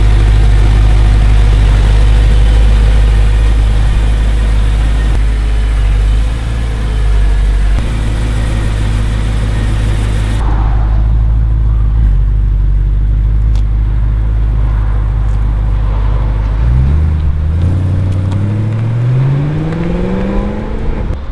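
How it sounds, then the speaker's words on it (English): A BMW E92 M3, freshly fitted with new rod bearings, rumbles loudly at close range with a steady engine drone, then drops away and revs up again with a rising pitch as it pulls off. "he is taking the car for a little spin after the rod bearings are done"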